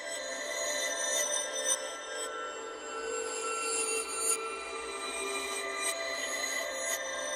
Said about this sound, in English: I bounced that down, and then I reversed it, and it led to this.